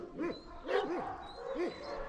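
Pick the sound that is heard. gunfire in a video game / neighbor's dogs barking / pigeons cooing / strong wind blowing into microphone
neighbor's dogs barking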